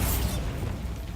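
A Bombarda blasting spell goes off in Hogwarts Legacy, a short, muffled low boom with a brief bright crackle at the start that quickly fades into a rumbling tail.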